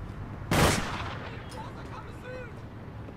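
A single sharp sniper rifle shot cracks out in the online game APB Reloaded, one loud report with a brief echoing tail before fainter game sounds and occasional voices return.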